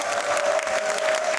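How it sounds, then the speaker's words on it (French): A brief burst of audience applause, dense and steady clapping with a faint sustained tone running beneath it. "Applaudis bien."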